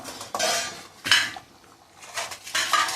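Fish pieces going into a simmering Nagercoil fish curry in a pot, heard as three bursts of clattering metal cookware contact and stirring, close and fairly loud, with quieter gaps of faint cooking noise between.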